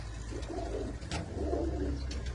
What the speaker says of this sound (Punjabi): ਇਹ ਹੈ ਬਾਈ ਦੇ ਕਬੂਤਰ